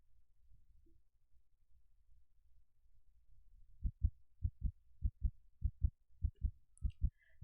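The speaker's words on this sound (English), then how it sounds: "he focused only on his heartbeat" A slow, quiet heartbeat thumps in paired low beats, starting after a few seconds of near silence and repeating steadily about a dozen times with nothing else heard.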